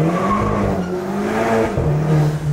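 A modified Volkswagen Golf GTI pulls away nearby, its engine droning loudly with a deep, rising exhaust note and a brief tire-squeal edge, running continuously throughout.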